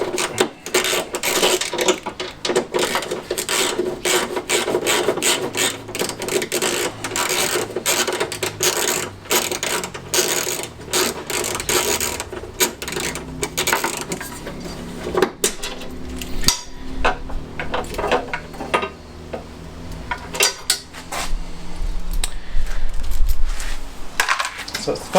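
Metallic clicking and clattering from a 10 mm socket ratchet undoing exhaust shield bolts on a classic Fiat 500 during engine removal, close and busy, with rapid ratchet ticks and tool clinks continuing throughout.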